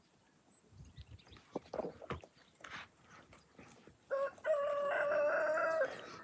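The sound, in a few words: chickens clucking and rooster crowing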